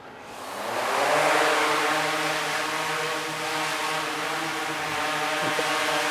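A DJI Inspire drone lifts off and hovers indoors, its propellers building from quiet into a loud, steady rotor buzz with a whining tonal hum that holds close and constant, no voices.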